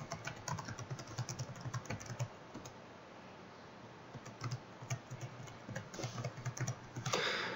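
Close computer keyboard typing of an administrator login, heard as quick, irregular bursts of key clicks with short pauses, quiet overall.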